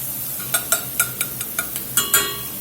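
A spoon taps and stirs in a pot as jalapeno cooks in butter, about ten sharp metallic clinks in an uneven rhythm over a soft, low sizzle, close up with no talking.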